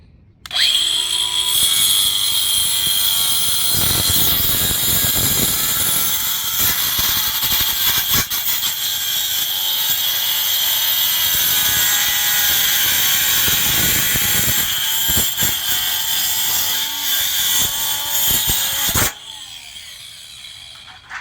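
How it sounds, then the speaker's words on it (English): A grinder cuts through a metal closet door rail in a loud, continuous high whine lasting most of the stretch, with brief dips in load, then cuts off near the end. "I want him to get good with that grinder"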